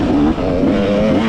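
A 2024 KTM XC-W dirt bike engine revs hard during a hare scramble race, a loud, close, continuous buzzing drone with wavering pitch.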